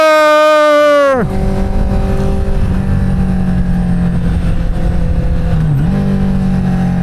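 Inline-four engine screams at high revs with rising harmonics, then drops sharply as it shifts down and settles into a loud, steady drone, with a brief dip near the end; close and constant.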